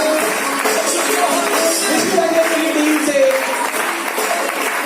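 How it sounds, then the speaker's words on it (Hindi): Team members at a training program in Delhi applaud a colleague, loud continuous clapping with voices and tonal cheers woven through it, sustained throughout. "फ्रेंड्स सचिन शर्मा जी की टीम से एक बार तालियां सुमन जी के लिए।"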